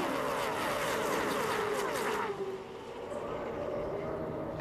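NASCAR stock cars roar past at the 2006 UAW-Ford 500, a loud, dense engine drone that swells and then fades as the pack moves away, with a race commentator talking over it.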